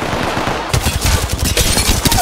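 Rapid automatic gunfire in Apex Legends, loud and close, with sharp repeated cracks in quick bursts over a noisy battle background, no talking.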